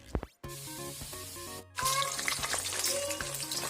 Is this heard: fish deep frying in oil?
yes